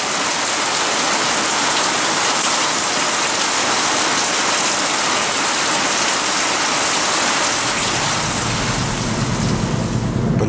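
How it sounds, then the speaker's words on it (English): Steady rain on a humid Sunday morning in a residential neighborhood, a loud, dense, continuous hiss of falling drops with no gaps, joined by a deeper low rumble near the end. "It's a rainy and humid Sunday morning here in the hood."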